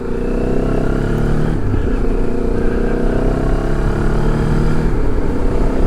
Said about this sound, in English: So I've been out on bikes this morning with Faye.